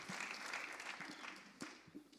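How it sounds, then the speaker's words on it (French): Audience clapping for the speakers of a first round-table panel at the launch of a funded electromobility project, a dense, steady patter of many hands, fairly near and continuous throughout with a few sharper individual claps. "Je vous propose qu'on applaudisse l'ensemble des intervenants à cette première table ronde."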